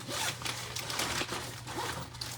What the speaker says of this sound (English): So this thing I'm zipping up.